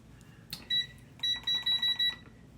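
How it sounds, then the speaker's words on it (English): A kitchen timer is set with a few button clicks, then sounds a series of short, bright electronic beeps in quick bursts, close and clear. "Let me set my timer. So as you can see, I'm going to set my timer here."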